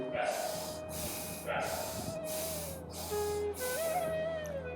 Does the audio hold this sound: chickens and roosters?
no